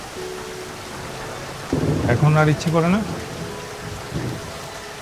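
Steady rain with rumbles of thunder fills the night air, while a voice speaks briefly over the downpour.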